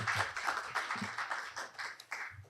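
Audience at an academic society's annual conference and general meeting clapping to welcome a professor to the stage, a short burst of dense applause that fades over a couple of seconds.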